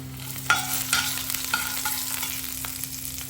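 Turmeric, salt and ground coconut paste being stirred in a pan for a raw papaya thoran, with repeated spatula taps and scrapes over a soft sizzle and a faint steady hum, no talking.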